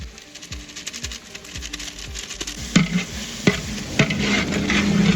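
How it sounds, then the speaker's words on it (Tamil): Chilli powder being stirred and fried in a large pot for a 10 kg beef biryani. Rhythmic scraping strokes of the ladle sit over a steady sizzle that grows louder toward the end. "வெறும் மிளகாத்தூள் 200 கிராம் போடுறாரு."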